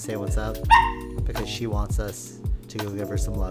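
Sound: dog barking in the background

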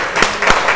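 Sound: audience applause for a singer on live TV

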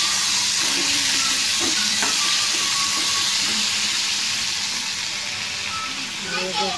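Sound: mango being roasted in a pan

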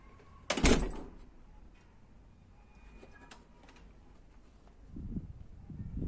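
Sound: door being closed

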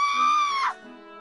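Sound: mother's scream in a told story

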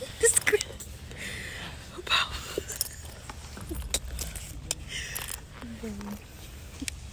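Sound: keys jangling

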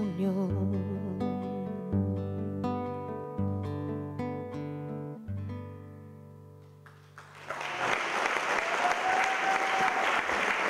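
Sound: audience applause

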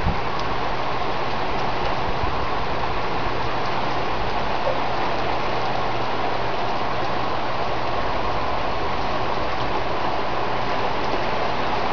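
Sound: torrential rain downpour

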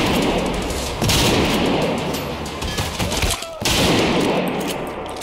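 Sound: gunfire in the video game Trepang2

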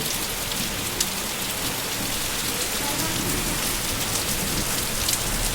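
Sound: heavy rain storm

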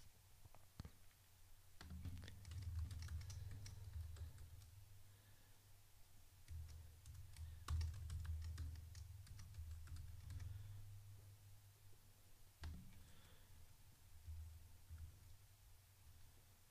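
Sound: typing a password on a computer keyboard

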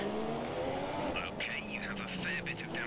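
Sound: Formula 1 race car engine revving in F1 2017 video game

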